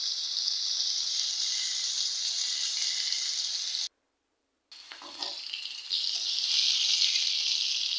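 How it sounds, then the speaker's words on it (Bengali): New potatoes frying in oil in a kadai with a loud steady hiss, broken by a short silence, then the sizzle returning louder after the slices go in, with no talking. "এখন আমি যে কড়াইতে দিয়ে দিলাম"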